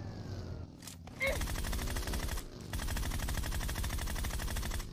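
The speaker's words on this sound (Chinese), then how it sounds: "打中三枪都没有把他打死" Gunfire in a battle-royale shooter game: dense, continuous rapid automatic fire under steady game noise, with a brief gap midway and a short sharp burst, alongside voice.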